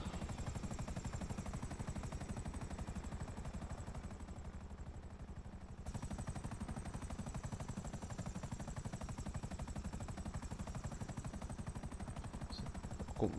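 Helicopter in Grand Theft Auto V flying with a fast, steady rotor chop pulsing throughout, loud and close, with a brief dip in the engine drone midway before it resumes.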